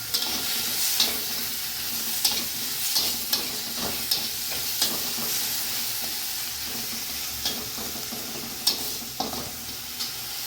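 Ginger and garlic frying in a pan with tomato, giving a steady soft sizzle with intermittent scraping stirs and clicks of a utensil, close and moderately quiet, with no talking.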